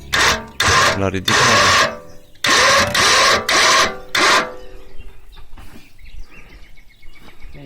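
Clamp device on a beekeeping lift tightening against a wooden beehive, a series of loud, close grinding and rasping strokes in rhythmic bursts, then softer clicks and handling noise.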